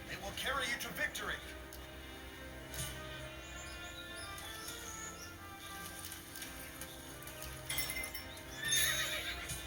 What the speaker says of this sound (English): Riding a horse allows you to move quickly.